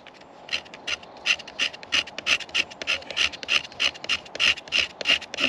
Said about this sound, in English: I'm gonna scrape down to the resin, which is all the ready coloured stuff.